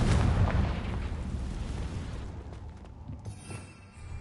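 A Confringo explosive spell goes off in Hogwarts Legacy with a loud, deep boom right at the start, then a long rumbling tail that slowly fades over several seconds.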